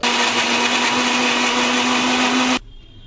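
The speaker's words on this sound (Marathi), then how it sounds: "तो आपण मिक्सरला लावून घेणार आहोत" A mixer grinder blends onion and raw tomato into a paste, its loud steady motor whine running for over two seconds before cutting off abruptly.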